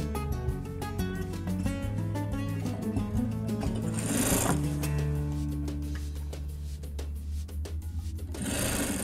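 A sewing machine hums and clatters continuously while stitching a trouser hem and elastic waistband, loud and close, with steady mechanical rhythm and a couple of brief bursts of rustling fabric handling.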